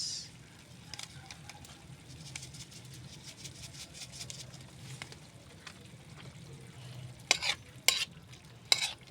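Vegetables including bitter gourd, ripe banana, garlic and moringa leaves sauté in a pan, a soft steady sizzle with faint stirring ticks and a few sharper scrapes near the end.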